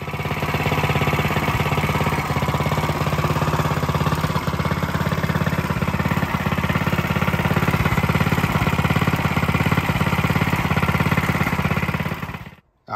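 A Coleman CT100U Doodle Bug mini bike engine fires up and runs steadily and loud for about twelve seconds with a fast chugging idle, then cuts off abruptly near the end.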